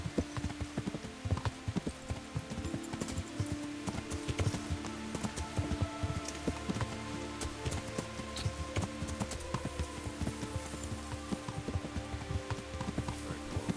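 Steady clip-clop of horse hooves trotting at an even rhythm in the video game Kingdom Come: Deliverance, mixed with a patter like rain and a faint low background drone.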